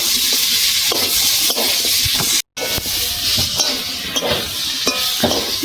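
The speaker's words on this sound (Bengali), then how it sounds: "দেখেছেন কষানোটা" Eel (kuchia fish) curry sautéed and stirred in a pan, with a steady sizzling fry hiss broken by scraping stir strokes and light clinks of the utensil against the pan, one very brief gap midway.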